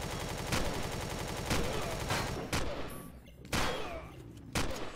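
Gunfire aimed at the player in the space survival game Empyrion - Galactic Survival: a steady rattle of automatic fire broken by loud, sharp single shots spaced about a second apart.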